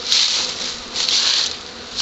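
A fresh honey bee swarm buzzes in a home backyard near a hive, a dense, high, close droning of many bees that swells and fades in pulses as they fly around.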